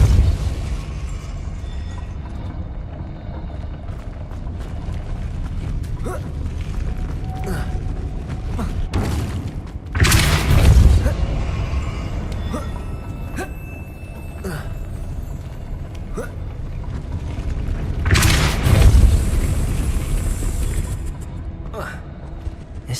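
Depulso force spell cast in Hogwarts Legacy, heard as two loud, bright bursts with deep rumbling thumps about eight seconds apart, set over a steady game ambience and mechanical creaking.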